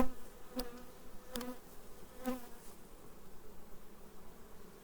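Honeybees buzz around a hive frame packed with goldenrod bee bread, a steady close insect hum with a few louder passes of individual bees.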